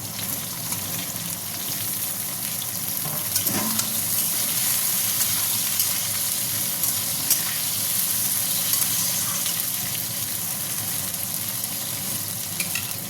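Cut eggplant frying in a pan as part of a quick potato, eggplant and egg curry, a steady close sizzle running throughout with occasional stirring scrapes and no talking.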